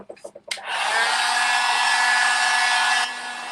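A hair dryer switches on after a few soft knocks and clicks, then blows steadily and loudly for a couple of seconds while drying a painted door hanger, dropping to a lower setting near the end.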